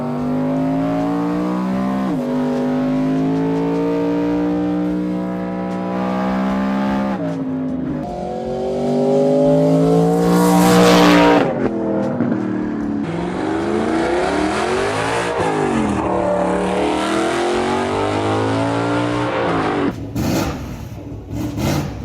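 A BMW E92 M3's S65B40 V8 with open headers revs hard and loud, its pitch sweeping up and down through repeated high-rpm pulls, with no talk over it.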